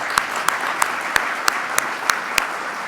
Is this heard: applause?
yes